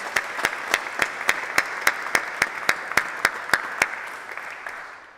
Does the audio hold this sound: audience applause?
yes